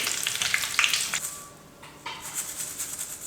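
Curry leaves frying in oil left from making kara boondi, with the stove turned off: a close crackling sizzle that eases briefly in the middle, then picks up again with bursts of spatter.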